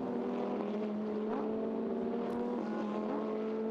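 A Lamborghini Super Trofeo race car leaves the pit lane at Silverstone, its engine a steady, fairly distant drone that holds without a break.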